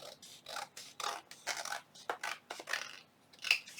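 Scissors trimming a paper junk journal insert, a close series of crisp snipping cuts in quick, uneven succession with no talking.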